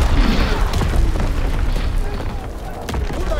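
Mortar battery in Call of Duty: WWII fires with heavy, loud booms and thuds that roll continuously through a dense battlefield din, while voices shout over the barrage.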